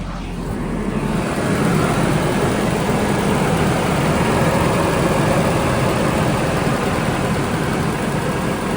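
A car engine with a misfire idles steadily with a low, constant rumble that never rises or falls, running on its own without any talk.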